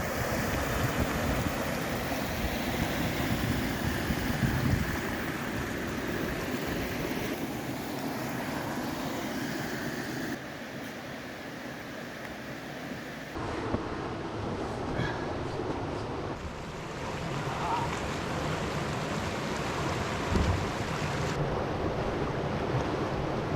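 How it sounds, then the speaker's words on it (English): A river pours over a waterfall on a Temagami canoe route, a steady broad roar of rushing water with wind buffeting the microphone, continuous and loud for the whole stretch. "That is the river going over another waterfall."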